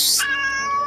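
A cat gives a single drawn-out meow, close and clear, its tone sliding and holding for under a second with no talk around it.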